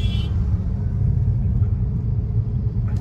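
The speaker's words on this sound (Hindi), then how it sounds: "आप लोग देख रहे हैं रोड पे काफी सारे गाड़ियां लाइन से लगी हुई है।" Heavy road traffic in a Delhi jam, with a steady low rumble of many idling and creeping cars and engines filling the scene continuously, fairly loud and close, no distinct horns standing out.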